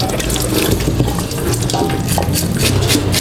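Tap water runs and splashes steadily over a raw chicken being washed by hand in a sink, a close, continuous rushing and spattering with no talk.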